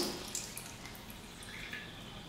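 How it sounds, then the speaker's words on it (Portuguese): Makeup brushes used with light eyeshadow are rinsed under running water from a tap, a steady splashing and dripping that stays close and continuous with no talk. "Então eu enxago bem"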